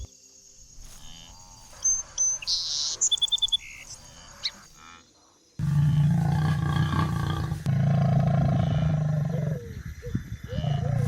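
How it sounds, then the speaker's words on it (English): A deep, rumbling animal roar rolls across the savannah, loud and sustained, while insects and background tones sound before it. "a deep, rumbling roar echoed, stretching as if tearing the air apart"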